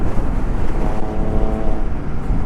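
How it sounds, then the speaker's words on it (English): Loud car passing in traffic, recorded from a moving motorcycle on an overcast, windy day: a steady, heavy engine roar blends with wind buffeting throughout, without a break. "That's a very loud car."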